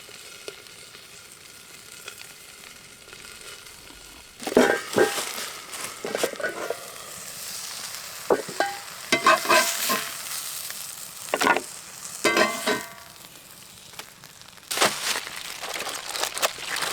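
Carrots, potato and onions sizzling in a pan in a small bush cabin, a steady quiet fry broken by louder bursts of stirring and crackling spatter.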